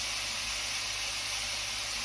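Onions and a burger patty fry on a griddle under a bun for an Oklahoma onion burger, giving a continuous loud sizzling hiss and steam with no break.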